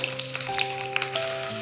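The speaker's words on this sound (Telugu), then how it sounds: "3 స్పూన్ల నూనె తీసుకొని తాలింపు గింజలు వేసాను." Tempering seeds crackle and sizzle in about three spoons of hot oil in a pan, with scattered sharp pops over a steady fry and a faint tonal hum in the background.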